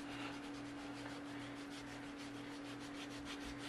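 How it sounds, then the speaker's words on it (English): Bare feet are scrubbed with a coconut sea scrub, a steady, close rubbing rasp of even back-and-forth strokes with a faint constant hum beneath. "I'm gonna start scrubbing the bottom of my feet"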